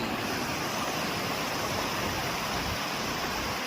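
Constant loud roar of rushing water, a dense unbroken wash of noise, close by and filling the whole clip.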